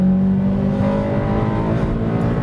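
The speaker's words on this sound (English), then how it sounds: "You engage VTEC and you know about it, because the entire cabin resonates." A Honda Integra Type-R (DC5) engine revving hard into VTEC at high pitch, a loud continuous mechanical roar with a strong steady tone heard from inside the resonating cabin.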